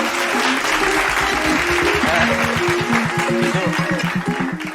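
Sustained, loud audience applause at a film poster launch for the movie Chandamama, steady dense clapping throughout with faint voices and a rhythmic beat underneath.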